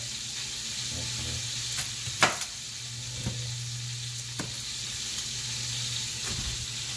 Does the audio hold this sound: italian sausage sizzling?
yes